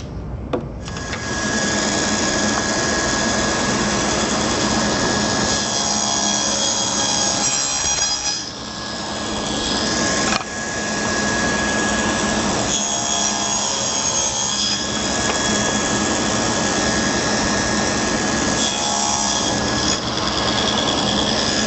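A table saw runs loudly and steadily, cutting a wooden drawer board guided by a miter gauge, with brief dips where the blade passes through the wood; no one speaks.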